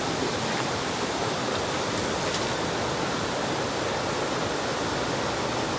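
A river swollen with heavy monsoon rain, rushing in full flood with a dense, constant roar of water that never lets up, close and loud.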